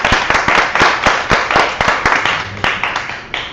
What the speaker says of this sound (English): how about another round of applause for both of you?